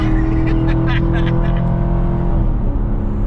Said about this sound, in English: the Corsa, exhaust and all just sounds so awesome